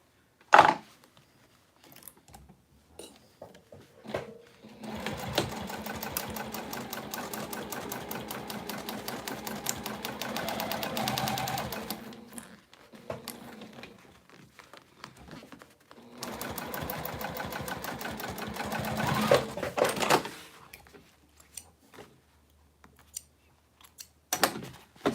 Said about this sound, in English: now I'm just going to top stitch this one before I flip the other one